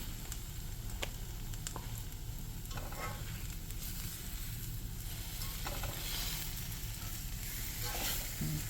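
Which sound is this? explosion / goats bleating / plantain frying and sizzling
plantain frying and sizzling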